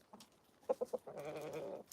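Roosters on a Maine farm in the morning let out a quick run of three clipped calls, then one longer drawn-out crow, fairly close and clear over a quiet yard.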